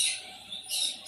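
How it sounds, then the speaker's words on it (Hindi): Bright chirping and high twittering calls from pigeons close by as they bathe together in water, rising in two bursts over a soft background hiss. "सभी कबूतर एक साथ नहा रहे हैं"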